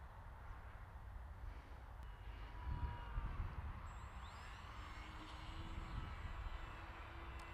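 Close behind, an RC model airplane comes in for a touch and go on a field, its electric motor whining steadily at moderate volume with a rising and falling pitch as it passes.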